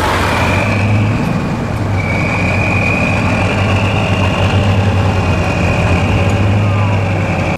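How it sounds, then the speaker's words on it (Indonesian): A tanker truck's engine idles close by in a loud, continuous low rumble with a steady higher whine on top, unchanging throughout and with no voices. "yang ini ada truk tangki teman-teman"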